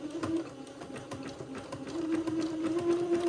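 Sewing machine running a zigzag stitch along the raw edge of silk organza entredeux on a gathered seam, a steady close mechanical whir with a rapid stitching pulse that grows a little louder toward the end.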